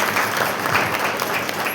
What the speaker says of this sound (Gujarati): આપણે તાળીઓ પાડી પ્રભુનો આભાર માનીએ.